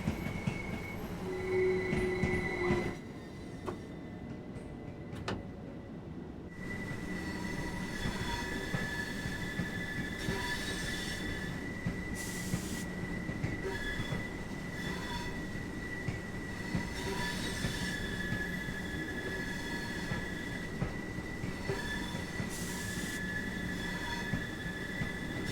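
A train pulls into Brighton in the video game Train Sim World 2, with a loud rumble of wagons, rail clatter and long high wheel squeals and tones that carry on for the whole stretch.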